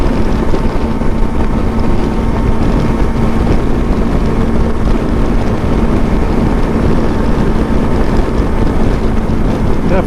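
Lifan KPT 400 motorcycle cruising at about 80 mph, with a steady loud engine drone and heavy wind rush buffeting the microphone throughout, no pauses or shifts.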